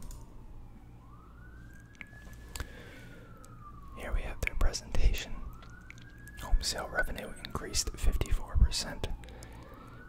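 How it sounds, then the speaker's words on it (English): A wailing siren rises and falls in the distance, repeating its sweep while a person speaks softly and closely over it. "you guys can hear that siren in the background."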